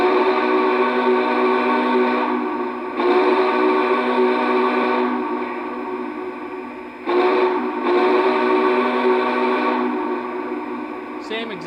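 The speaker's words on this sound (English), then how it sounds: "Same exact whistle sound." A Lionel Vision Line model locomotive blows its steam-style whistle, a loud harmonic chord held in long blasts broken by two short gaps, with faint room echo.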